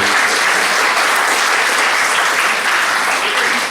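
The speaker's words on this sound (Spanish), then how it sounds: "Un aplauso para nuestros conferencistas magistrales" A crowd applauds keynote speakers at a conference, steady dense clapping that holds at an even, full level throughout without any voices over it.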